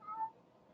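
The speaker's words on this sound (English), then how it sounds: "That was my cat." A single short, faint meow from a cat, brief and slightly nasal, fading into quiet.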